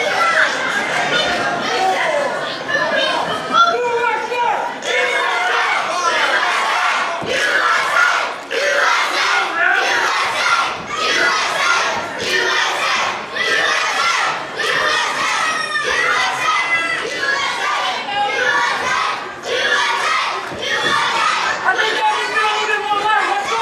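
Wrestling arena crowd at a CCW title match roaring steadily throughout, loud dense cheering and shouting with rising swells, a commentator speaking over it.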